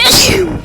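A single loud, close sneeze bursts out sharply and fades within a fraction of a second, with no talking around it.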